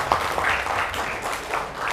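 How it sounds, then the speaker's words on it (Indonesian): Students clap together in a classroom, a dense, steady patter of many hands lasting throughout, moderately loud with a faint voice mixed in. "tepuk tangan untuk kalian semuanya ya"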